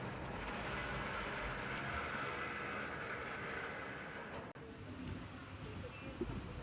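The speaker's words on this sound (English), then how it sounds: "We're finally pulling into Kankavali station at 10:55 p.m." The 12134 Mangaluru–Mumbai Superfast, running late at night, rolls into Kankavali station, heard from inside as a steady low rumble of the carriage with faint rattles throughout.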